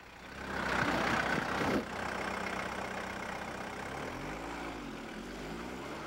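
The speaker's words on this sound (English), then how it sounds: "The combination of the turbo and the oxygen catalyst mean this diesel engine runs a lot cleaner" A turbo diesel car engine idles steadily, a low, even rumble with a faint hum, slightly louder at first, then settling into a constant drone.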